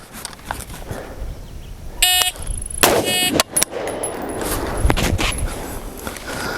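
A single close-range AR rifle shot fired from the low ready at about seven yards, a sharp loud crack with metallic clatter around it, set against outdoor range background noise.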